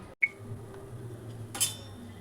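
A lid lifted off a frying pan while spinach malpua fries, giving a short metallic clink near the start and a brighter clatter later, over a low steady sizzle.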